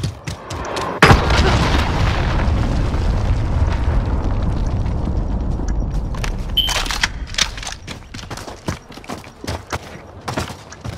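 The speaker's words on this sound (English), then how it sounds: "Allied cruise missile away." A cruise missile explodes in the video game Modern Warfare during a Search and Destroy match: a loud booming blast that rumbles and decays over several seconds, followed by scattered sharp gunshot-like pops and clicks.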